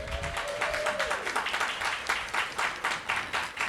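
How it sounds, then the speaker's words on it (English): A modest crowd claps for Crystal and her family at a downtown family fun day indoors, a steady moderately quiet patter of many hands lasting a few seconds, with a brief tonal sound near the start. "let's give a big round of applause to Crystal and her family"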